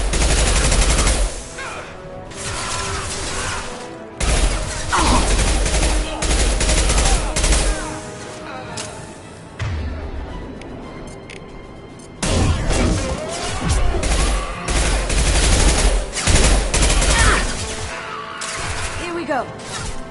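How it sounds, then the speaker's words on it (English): Mass Effect 2 impact scope weapon firing in gameplay, loud bursts of gunfire and impacts in clusters separated by short lulls, with voices speaking at times. "Firing an impact scope!"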